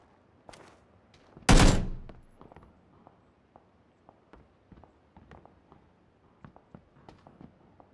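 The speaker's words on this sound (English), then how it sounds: "I'm just using suppressing fire at this point." A single loud, sharp gunshot bursts out during a video game squad firefight, followed by a string of faint, scattered ticks and steps that fade into the background.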